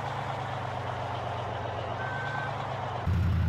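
A truck in the Farming Simulator 15 video game backs up, its reversing beeper sounding over a steady, loud low engine drone that swells slightly near the end.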